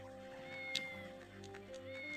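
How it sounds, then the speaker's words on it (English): A cat meows once, a short high-pitched mew heard close over a steady background hum, followed by faint softer sounds. "It's a kitty."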